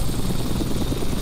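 Simulated helicopter in Flight Simulator X gives a loud, continuous rotor and engine drone with a low rhythmic throb, heard alone and close up.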